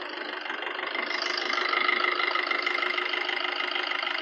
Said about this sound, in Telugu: ఇంజన్ కూడా చాలా స్మూత్ ఉంది